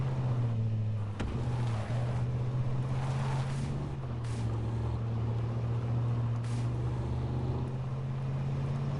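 Car in the H1Z1 video game driving with a steady, droning engine hum that holds loud and continuous, a brief thump near the start and occasional whooshing bursts over the top.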